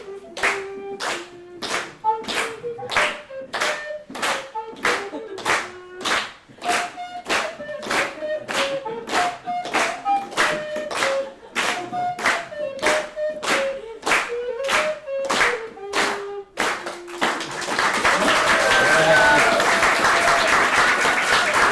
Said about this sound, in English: we'll see if the delegates will clap along then